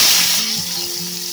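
Chopped onion and tomato hit hot oil with a loud burst of sizzling that settles into a steady, bright frying hiss, close and with no talking, while cooking a Bengali-style pakoda curry.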